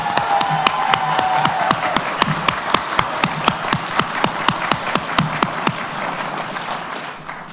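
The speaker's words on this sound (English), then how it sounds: "Let's give them applause." Audience at a continuing and professional studies graduation ceremony claps for the graduates, a steady, moderately loud round of applause with a few sharp individual claps standing out, fading toward the end.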